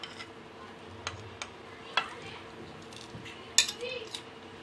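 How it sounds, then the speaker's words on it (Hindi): Spoon mixing masala paste with ginger-garlic paste in a bowl for mutton tandoori boti, producing sparse clinks and scrapes against the bowl, fairly close and alone. "अभी इसको मिक्स करेंगे"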